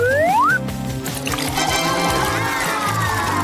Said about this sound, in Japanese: ひんやりとしたシャワーが必要。